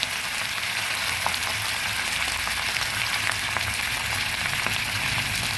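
Ginger and ground spices, with cumin powder added, fry in a pan for a vegetarian bottle gourd and mung dal dish, giving a loud, steady, close sizzle that runs unbroken throughout.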